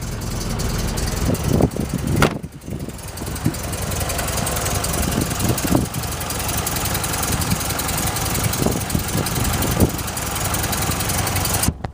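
A classic Volvo 1800 engine idles low at about 1,000 RPM, a steady close-up rumble with a brief dip partway through, then running on evenly with no talk.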